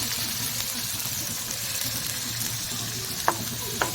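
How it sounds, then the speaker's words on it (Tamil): Shallots and coconut fry in hot oil in a kadai with a steady, close sizzle. A couple of faint clinks of a stirring spoon rise over the frying near the end. "இப்போ எண்ணெய் ஹீட் ஆனதும் சின்ன வெங்காயம் தேங்காய் ரெண்டையும் ஆட் பண்ணிக்கோங்க."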